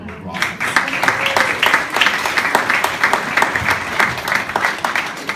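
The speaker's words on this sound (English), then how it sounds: "Give yourselves a round of applause." Parents at an evening school workshop give themselves a round of applause, a loud, close, dense burst of clapping that rises quickly and keeps a lively, uneven rhythm for about five seconds.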